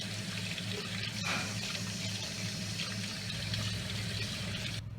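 Tap water running steadily over rabbit feet dumped in a strainer, a soft continuous splashing rush at moderate distance that cuts off sharply near the end.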